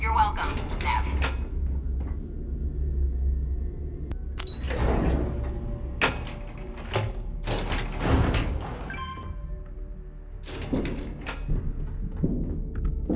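Elevator machinery in the video game Starfield: a low, steady mechanical hum with creaks, clunks and thuds scattered throughout, with brief game sounds layered over the drone.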